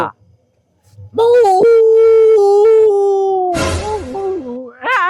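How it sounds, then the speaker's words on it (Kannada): A dog howls loudly and close by in a long, wavering, rising-and-falling cry, ending with a few shorter whines. "ನಾಯಿ ನಾಯಿ"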